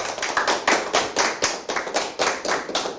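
An audience claps together at a Korean hibiscus (mugunghwa) theme-city event. The applause is dense and close, rising and falling in a series of strong surges for a few seconds with no talk over it.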